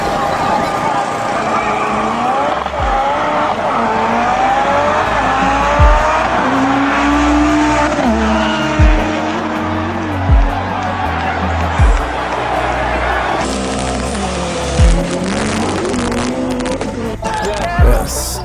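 A drag racing car accelerates hard, its loud, close engine revving up through a series of sharp gear changes, each rising pitch sweep cut off by a brief drop before climbing again.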